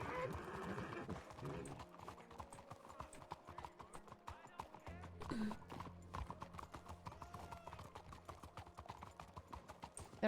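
Horses clip-clop along in RedM, the Wild West roleplay game, a steady hoof rhythm running through mixed game ambience and other sounds for about ten seconds.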